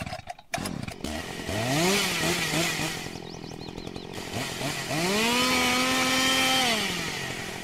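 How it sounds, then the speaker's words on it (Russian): Chainsaw in Farming Simulator 22: a loud, steady motor drone with pitch sweeps rising and falling as the throttle revs up and drops back, filling the whole stretch after a short sputtering start. "Ну ладно, давайте возьмем пилу."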